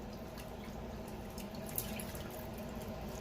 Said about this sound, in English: I'm going to rinse it out again with hot water because of all this blood water.